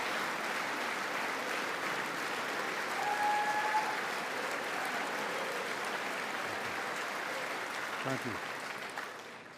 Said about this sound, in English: you hear the applause there.